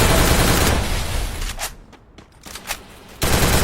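Rapid video-game gunfire in a battle-royale shooter match, dense bursts of automatic fire filling most of the clip with a brief lull in the middle before the shooting resumes loud and close.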